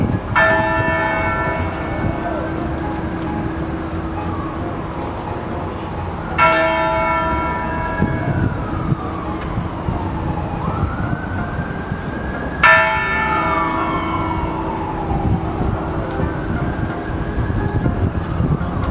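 A large church bell tolls at a statue unveiling on the Georgia Capitol grounds, with three loud, ringing strikes spaced about six seconds apart, each leaving a long shimmering decay over steady outdoor background noise.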